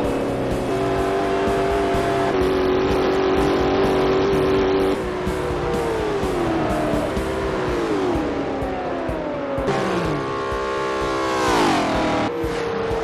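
Supercars including a Bugatti and an Ultima race at over 250 mph, engines roaring loud and continuous with sweeping pitch shifts as cars pass and accelerate, tire squeal mixed in, no talk.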